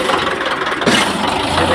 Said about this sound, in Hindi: देख सकते हैं रूसी ट्रैक्टर आ चुका है।